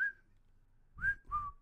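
A person whistles a short tune: one brief clear note, a pause, then two more sliding notes, close and fairly quiet, with no talking.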